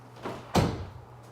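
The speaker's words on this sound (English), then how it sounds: "Wait, let me close this door." A door closes indoors with one sharp, solid bang that follows a brief scrape or swing noise, then rings down quickly over a low background hum.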